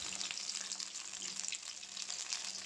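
Meat slowly frying in a pan over very low heat, giving a steady, quiet sizzle with a soft hiss throughout, no voices.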